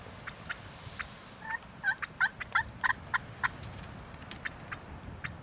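A wild turkey calls during a Kansas turkey hunt, a rapid burst of gobbling notes from a moderate distance rising over quiet outdoor background noise, with no voices.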